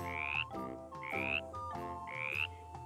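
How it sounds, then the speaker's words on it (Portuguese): A frog croaks three times in a steady, evenly spaced rhythm. Each croak is loud, close and rising, with no voices around it. "sapo"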